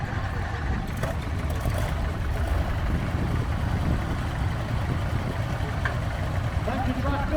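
Engines of vintage tractors rumble steadily as they roll past at an agricultural machinery show, a continuous low drone with faint crowd noise in the background.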